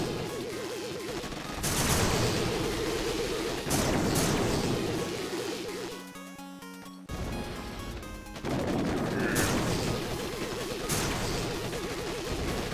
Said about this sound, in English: let's just take a look at some of the glorious shock mines destroying these heavies.